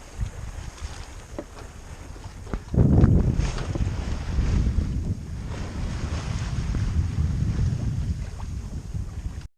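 Wind buffets the microphone aboard a Nova 28 sailboat in a moderate beam breeze, with water rushing along the hull; the gusts swell sharply after a few seconds and stay loud.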